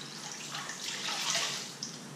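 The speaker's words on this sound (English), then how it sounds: "Take 1 towel out of the bucket." A wet wash towel lifted out of a bucket of water sheds a soft, continuous splashing and dripping that runs steadily throughout, fairly quiet and close, with no voices.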